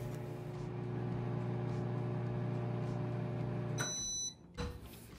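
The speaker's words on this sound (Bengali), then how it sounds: "এবার আমি বাটিটিকে কিছুক্ষণের জন্য মাইক্রোওয়েভ করে নেব" A microwave oven heats a bowl of spinach and eggs with added water, humming steadily at close range before several sharp electronic beeps sound near the end.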